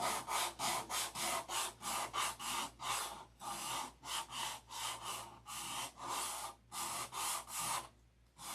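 Wood is sanded by hand in quick, steady back-and-forth strokes, each rasping pass close and distinct, with a short pause near the end and no talking.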